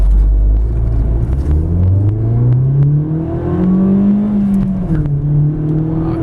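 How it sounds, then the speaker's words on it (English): A Ford Focus ZX3 S with a five-speed manual gearbox accelerates from a standstill up a hill under full load, its engine rumble rising steadily in pitch, loud and close throughout with no talk. "We're going to be going up a hill, putting maximum load onto the vehicle."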